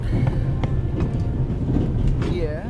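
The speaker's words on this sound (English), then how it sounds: "The noise on this train is driving me crazy." Steady low rumbling train noise aboard the Orient Express in The Raven, a continuous loud mechanical drone with faint clicks and a short whining squeal near the end.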